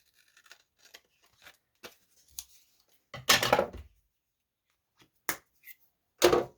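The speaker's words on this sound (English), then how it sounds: "Trim that off." Scissors trimming fabric, a series of short, faint snips and crisp cuts spaced out with quiet gaps, a few louder rustling cuts standing out near the end.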